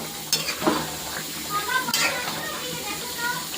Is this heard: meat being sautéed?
yes